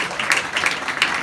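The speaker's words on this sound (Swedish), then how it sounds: "En applåd för Mattias tycker jag." Audience applause at the Fasching jazz club in Stockholm for a musician joining the stage, a short burst of many hands clapping close by and fairly loud.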